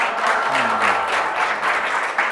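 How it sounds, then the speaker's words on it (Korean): Audience applause at a live business lecture, steady dense clapping from many hands filling the room for a couple of seconds, with a faint voice briefly underneath. "박수 한번 주시겠어요?"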